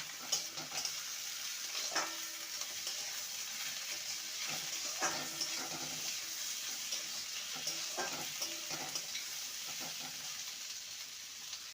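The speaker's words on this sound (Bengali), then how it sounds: "আলুটা ভাজা হতে থাক" Potatoes frying in oil in a pan before ridge gourd is added, a steady soft sizzle with occasional stirring scrapes and light clinks, close and continuous with no talk.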